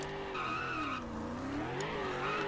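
Game car engines whine and shift pitch while tires screech in a long skid, a steady loud stream of virtual driving and sliding.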